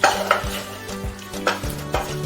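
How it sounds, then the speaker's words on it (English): Onions stirred in a pan with butter and salt, a spoon scraping the pan in quick repeated strokes over a faint sizzle, close and clear with no voices. "Then we are going to stir the onions"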